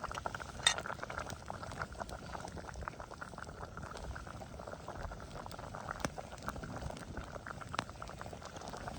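Turkey bone broth boiling in a pot over a campfire as dumplings are dropped in, a constant soft bubbling with faint clinks and small splashes scattered throughout.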